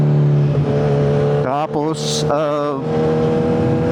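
A Kawasaki Z1000R motorcycle engine running with a steady low drone underneath, while someone speaks over it in bursts.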